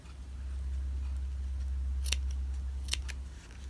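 Sharp scissors snip through felt pieces for a mitten ornament, with a few quick crisp cuts heard close up over a low steady hum.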